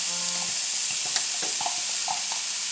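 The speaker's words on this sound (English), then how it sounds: "And then immediately adding my onions and chilli and garlic." Onions, chilli and garlic go into a hot pan with spices, giving a steady bright sizzle with soft stirring scrapes and light clinks, close by and with no voices.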